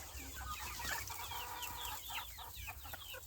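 Several young hens in a garden coop in Sinop, Turkey, cluck and murmur nearby, overlapping soft calls in an irregular chatter, moderately quiet with no talking.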